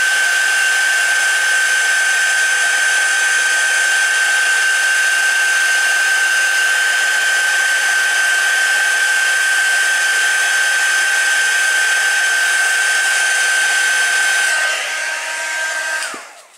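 A heat tool blows hot air for card heat embossing, giving a steady, loud whooshing hiss with a constant high whine, running unbroken for about fifteen seconds before switching off and spinning down.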